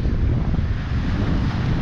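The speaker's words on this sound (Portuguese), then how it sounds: "Mesmo que esse ventinho assim, ó, tá tranquilo." Strong wind blowing across a seaside campsite at night beside a tent facing the sea, a loud continuous roar buffeting the microphone with steady low rumble.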